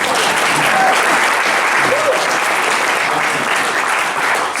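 Dense, loud audience applause at a motivational talk, sustained and even from start to finish, many hands clapping together in a large room.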